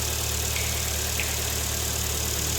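A Kia Sportage with a G4KD engine idles with a steady, even hum and a faint regular ticking pulse, continuous and close, with no talking.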